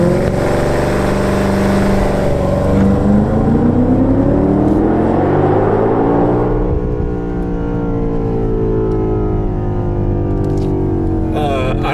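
A 2020 BMW X5M launches hard from a launch-control start on a blocked highway, its engine roaring loud and continuous as rising gear harmonics sweep upward and drop with each shift, steady throughout the run.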